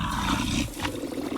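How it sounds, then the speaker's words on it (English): A drac, a wolf-like night creature in the game Icarus, lets out a deep, growling roar up close, one sustained snarl with a harsh rise partway through, alone without speech. "Just come across one of the new creatures. It's called a drac."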